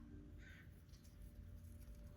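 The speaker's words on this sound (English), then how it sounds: "don't know if you can hear my crows outside," A crow caws briefly in the distance outside, faint against a steady low rumble of room noise.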